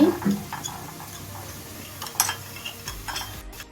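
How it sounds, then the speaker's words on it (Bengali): Turmeric powder and water being stirred in a pan, soft scraping and a few light utensil taps and clinks, close and fairly quiet with no talking. "ওয়ান ফোর টিস্পুন হলুদ গুঁড়ো দিয়ে দিচ্ছি দিয়ে একটু জল দিয়ে মিশিয়ে নিচ্ছি"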